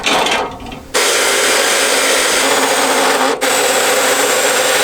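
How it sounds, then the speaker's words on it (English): A power saw cuts bracket metal in place in a basement being rebuilt, a loud, steady grinding whine that runs nearly the whole time with a short dip near the start and a brief break before the end. "We'll put a saw wherever the drop cord is gonna reach, and we're just gonna cut it in place here."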